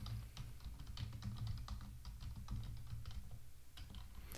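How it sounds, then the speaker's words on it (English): A password being typed on a computer keyboard: steady, quick, fairly quiet keystrokes in an irregular run over a low constant hum, with no voices. "we're going to type in a password."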